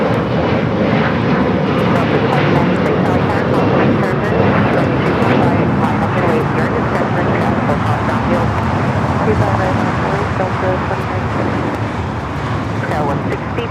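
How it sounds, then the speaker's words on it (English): An ANA Boeing 787-9 Dreamliner takes off at LAX, bound for Tokyo Narita, its engines a loud, sustained roar. Voices and airport radio chatter are layered over the jet noise throughout. "Should be seeing the ANA rolling it down, heading back to Tokyo Narita on the"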